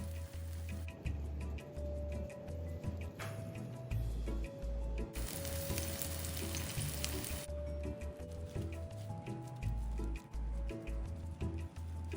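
Tapioca and chive fritters pressed flat and set into hot oil in a pan sizzle quietly, with a brighter burst of frying midway, over a low hum and scattered light clicks.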